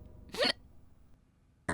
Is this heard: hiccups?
yes